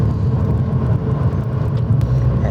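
A Mazda MX-5 Miata NC, identified as a 2008 model, drives slowly over ice with a steady, close low engine hum and faint tire and road noise, with no voices.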